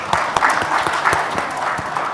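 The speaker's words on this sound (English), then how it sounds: "give applause for all of them" An audience applauds panel speakers at the close of a question-and-answer session, with dense, sustained clapping from many hands. Sharper individual claps stand out within the steady wash.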